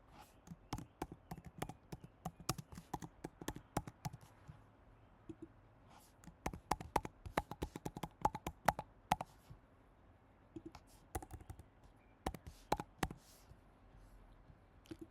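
Computer keyboard typing and mouse clicks while filling in an online Google Form, quick irregular clusters of close, crisp taps with short pauses between bursts, quiet and without talking.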